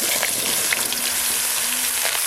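Ridge gourd frying in hot oil tempered with dried red chilli and five-spice for a ridge gourd and prawn dish, giving a loud, continuous close-up sizzle with faint crackles throughout.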